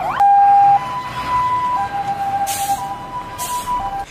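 Fire truck sirens wailing in a city street in Lubumbashi, a loud steady tone sliding up and down with repeated pitch changes, other siren blasts overlapping as the vehicles pass nearby.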